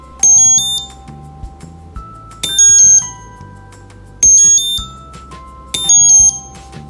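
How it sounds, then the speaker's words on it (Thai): A piezo buzzer on an ESP32 board beeps in four short, bright bursts at regular intervals, loud and close against a faint low background. "ผมจะใช้เปียโซบัสเซอร์เราจะใช้ความถี่ในการควบคุมบัสเซอร์ชนิดนี้"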